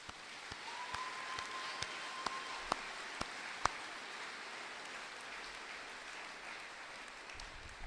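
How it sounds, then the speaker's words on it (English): Audience at a high school graduation applauding the Board of Trustees, a steady, even wash of clapping from a large crowd that holds at one level throughout, with a few sharper claps standing out. "giving that group a round of applause."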